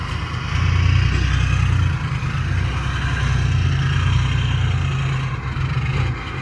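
A Hino Mega JO8E truck with an electric turbo and common-rail engine runs steadily nearby, a deep continuous diesel rumble with slight swells in level throughout.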